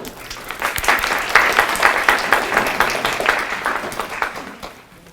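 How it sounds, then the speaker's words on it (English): A crowd of literacy tutors and guests at a Project READ event claps together, a dense, steady round of applause that swells and then tapers off at the close. "So please give yourselves a round of applause."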